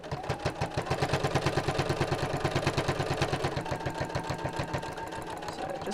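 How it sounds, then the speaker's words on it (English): Domestic sewing machine running steadily at close range, stitching near the edge of a fabric flap, with a fast regular needle rhythm throughout and no talking. "And then just sew quite close to the edge."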